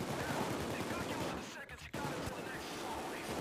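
Dense, continuous automatic gunfire in the Payday 2 video game, loud and rapid, briefly dropping out mid-burst before resuming, with players talking underneath.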